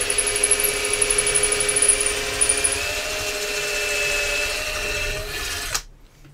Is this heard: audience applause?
no